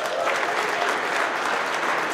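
Audience applause and cheering at a trucking company's monthly celebration, a steady dense wash of clapping that holds evenly throughout without pause.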